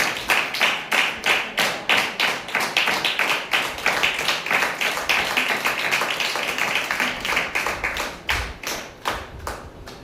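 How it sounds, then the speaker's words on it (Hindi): A church congregation clapping in unison, a steady rhythmic beat of many hands close by, continuing for about ten seconds and loosening slightly toward the end. "तो ताली बजा के उसको धन्यवाद दे।"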